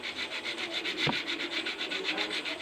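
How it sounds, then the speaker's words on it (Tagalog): Steady rhythmic rasping of sandpaper rubbed back and forth on brake pads, close up, with one brief knock partway through. "Lihain po natin."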